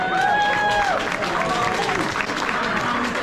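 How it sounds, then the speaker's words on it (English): A banquet crowd at a racetrack awards dinner gives a live musician a loud, sustained round of applause that fills the whole stretch, with a few faint tonal voice or music traces mixed in early on. "Give him a big hand."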